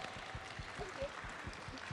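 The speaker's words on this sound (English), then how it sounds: "Round of applause for gnomes." A crowd of audience members applauds and cheers cosplayers at an anime convention cosplay competition, a dense, steady wash of clapping that holds for about two seconds.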